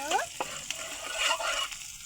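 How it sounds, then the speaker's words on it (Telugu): Onions sizzling and frying in oil in a pan, a steady hissing crackle with brief stirring scrapes, close and fairly loud, no talking. "ముందు ఆయిల్ పోయాలి, తర్వాత ఉల్లిపాయలు మిక్స్ చేయాలి"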